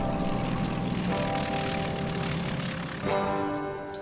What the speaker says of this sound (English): Cargo planes flew in more freight, landing on frozen lakes.